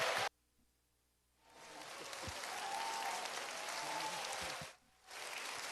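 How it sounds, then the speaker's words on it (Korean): A church congregation applauding as a missionary comes forward, a broad rush of clapping swelling up after a short silence, holding steady for several seconds, then briefly dipping before resuming. "박수로 하나님께 영광 돌리시고"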